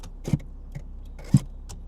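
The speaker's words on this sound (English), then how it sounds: "And then your turn signal." Turn signal relay clicking inside a 1992 Subaru Vivio, a few sharp, evenly spaced ticks about a second apart over a quiet cabin hum.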